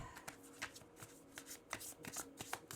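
Energy oracle cards shuffled by hand, a quick run of close riffling and tapping sounds with a faint low hum behind, no talking.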